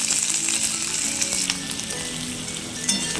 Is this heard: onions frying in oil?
yes